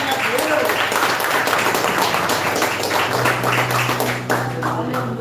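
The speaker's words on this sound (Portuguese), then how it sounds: "Dá uma salva de palmas para Jesus." A church congregation claps for Jesus at an evening service, loud continuous clapping mixed with voices and a sustained tone underneath, fading slightly toward the end.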